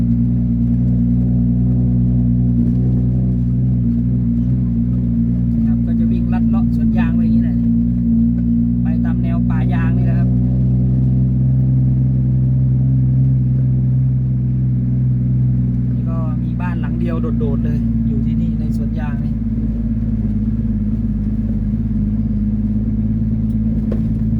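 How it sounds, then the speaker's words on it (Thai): An Isuzu NPR truck with a new turbocharged engine drives along, its steady low engine drone and rumble filling the cab while people talk over it throughout. "NPR คันนี้นี่ขุมกำลังเต็มที่เลย วางโบ นะครับ วางเครื่องใหม่วางโบแล้วก็"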